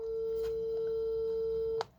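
A steady electronic phone tone hums alone and unbroken, then cuts off abruptly near the end.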